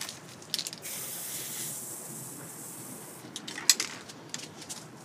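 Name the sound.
spray paint can being sprayed to clear the nozzle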